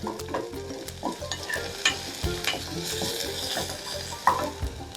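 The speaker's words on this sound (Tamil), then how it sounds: "ஒரு சின்னதாக ஒரு வெங்காயம் இதை நல்லா வதக்கிக்கலாம்" An onion sautéing in a pan for rasam, a steady sizzle with repeated stirring scrapes and light clinks throughout, close and fairly loud, with no voices.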